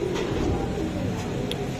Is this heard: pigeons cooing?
yes